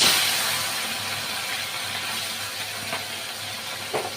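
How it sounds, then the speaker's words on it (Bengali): Small chela fish, rubbed with salt and turmeric, fry in a pan with a steady, close hiss of sizzling oil that eases slightly over a few seconds, with a couple of faint pops near the end. "আগে মাছটাকে ধুয়ে ভালো করে লবণ হলুদ মাখিয়ে এখন ভেজে নেব"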